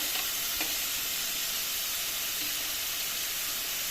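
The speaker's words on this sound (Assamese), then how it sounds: "তাৰপিছতে মই ইয়াত বিলাহীখিনি দি দিম। বিলাহী, শুকান জলকীয়া, তেজপাত, গোটেইকেইটা, কেঁচা জলকীয়া" Tomatoes, dried chillies, bay leaves and green chillies fry in a pan for a fish curry, giving a loud, continuous hissing sizzle close by with a faint stirring scrape near the start.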